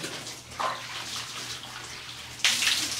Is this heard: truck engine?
no